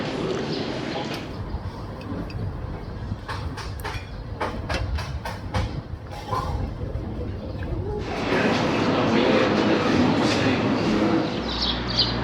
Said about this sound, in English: Now, a steam train.